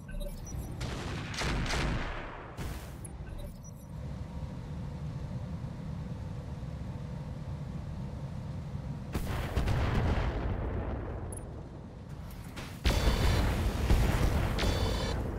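Weapons fire in Roguetech, a BattleTech mod with battling mechs: heavy booming blasts and bursts over a continuous roaring rumble, with louder impacts near the start, middle and end.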